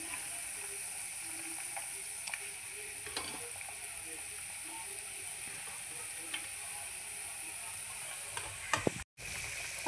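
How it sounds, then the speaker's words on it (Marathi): Stuffed khapri pomfret is slipped into boiling curry gravy, which gives a quiet, steady bubbling hiss with a few faint clinks and clicks and a brief cutoff near the end. "आता रश्शाला छान उकळी आली आहे, तर आता आपण त्याच्यामध्ये मच्छी सोडूया"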